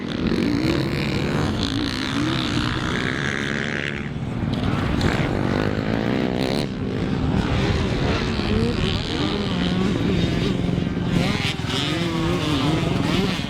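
A 125cc dirt bike revs hard and roars through a big jump, engine pitch climbing and dropping up close, with excited shouting and talk over the noise.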